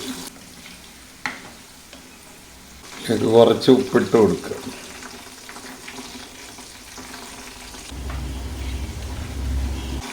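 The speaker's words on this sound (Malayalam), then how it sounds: "വെണ്ടക്ക എണ്ണയിലിട്ട് വറുക്കുക" Okra pieces fry in hot oil in a kadai, giving a soft steady sizzle throughout, with a voice speaking over it partway through.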